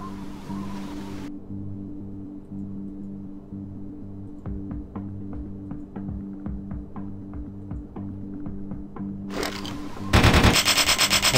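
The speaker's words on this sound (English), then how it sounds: "It just opens up fire before I'm even ready." Gunfire in a modded vampire video game: a burst of rapid, evenly spaced automatic shots over a steady low engine-like hum, followed by a louder, dense barrage at the end, with no talk.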